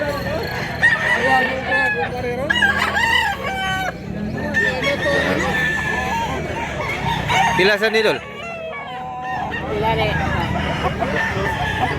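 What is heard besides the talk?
chickens and roosters crowing at a market in Cebu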